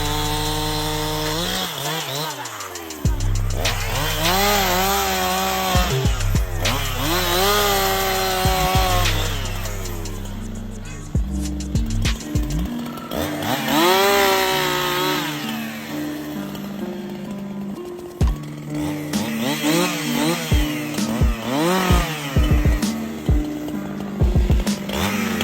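A chainsaw is worked on a tree, its engine revving up and down in uneven bursts with a steady high whine over a low rumble, close and loud throughout with no talk.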